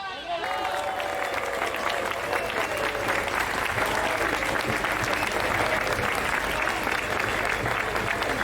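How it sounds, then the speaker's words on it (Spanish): Audience at a political rally applauding, a thick continuous roar of clapping mixed with crowd noise and a brief voice at the very start, holding at a steady level the whole time. "aplausos"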